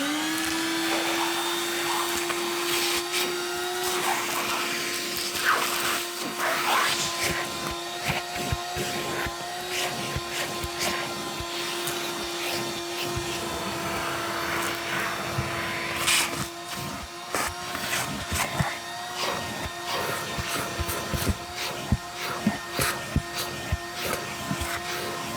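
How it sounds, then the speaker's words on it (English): A vacuum cleaner runs continuously nearby, cleaning glass from a car's back seat area, a loud steady whine with a constant drone and occasional bumps and rattles as it moves. "We need to vacuum up."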